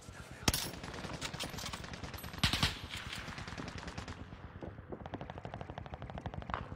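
Assault rifle fire in an online shooter game rattles out in long rapid bursts with a couple of louder cracks, then a faster, thinner volley near the end, all sharp and fairly close.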